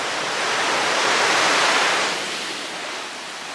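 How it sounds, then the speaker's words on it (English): Ocean surf at Port Leven on the Cornwall coast on a calm morning, a broad steady wash of waves swelling and easing slightly, fairly loud and with no talk. "I'm at Port Leven. You can hear the ocean behind me."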